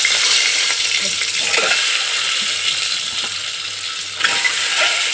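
Eggs fry in hot oil for an egg biryani, giving a loud, dense, continuous sizzle with a brief crackling burst near the end and no voices.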